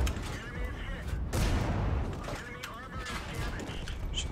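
Tank cannon firing in World of Tanks, a single heavy boom with a broad rumbling blast partway through, set against mechanical creaks and game ambience, with someone talking quietly throughout.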